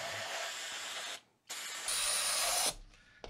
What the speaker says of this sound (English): When you get the brake clean down in there